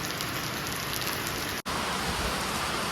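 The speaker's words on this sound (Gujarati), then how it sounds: "તો બહુ વરસાદ આવી ગયો" Heavy rain pours down in a dense, steady hiss, briefly cut off for a split second before continuing just as loud.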